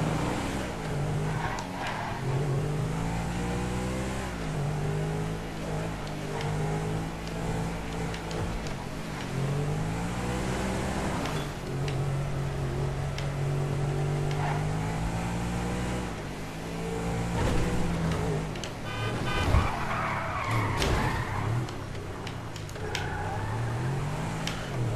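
Car driving in the video game GTA V, with a steady engine drone that rises and falls as it accelerates, plus brief tire noise and a few sharper bumps, continuous and fairly loud throughout.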